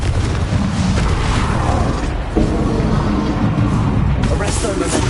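A Confringo blasting spell explodes in Hogwarts Legacy, a loud, dense rumbling blast that fills the whole stretch with continuous booming energy and a brief dip midway.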